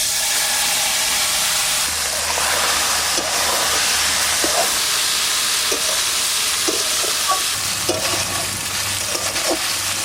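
Fish sizzles and fries in hot oil with dried red chilli, bay leaf and cumin, a steady close hiss with scattered crackles and stirring scrapes throughout, no talk.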